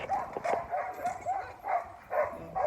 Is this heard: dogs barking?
yes